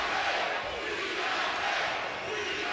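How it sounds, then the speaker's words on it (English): A boxing arena crowd roars and cheers for Deontay Wilder during his fight against Johann Duhaupas, a dense, steady wall of voices holding at full volume throughout. "Crowd getting behind Deontay Wilder."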